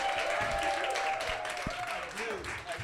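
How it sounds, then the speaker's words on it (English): Audience applause for panel speakers at a Brooklyn food justice event, a moderate, steady patter of clapping through the room with a sustained tone and some voices mixed in underneath. "please give a round of applause for Leah Thomas, Tony Hillery, and Kofi Thomas"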